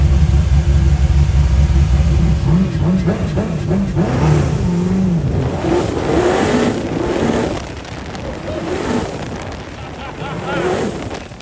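A loud 1750 bhp dune buggy engine revs and roars nearby, rising and falling in bursts with sharp pops, while voices speak over it.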